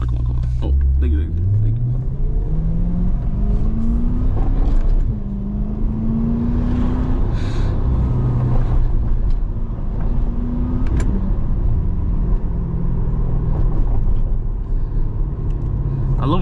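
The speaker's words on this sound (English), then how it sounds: "I love the burbles in this car so much, man." A car's engine drones and rises through gear changes while driving in Florida, with a low exhaust rumble throughout and speech heavily present over it.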